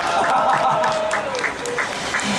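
Audience applause at an outdoor candlelight rally held for a labor struggle, a dense steady clatter of many hands lasting a couple of seconds, with a faint tone and some voices mixed in.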